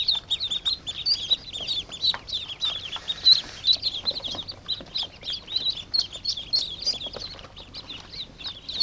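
Newly hatched ducklings peeping in a barn: a constant stream of rapid, high, thin peeps from several chicks close by, continuous and overlapping throughout.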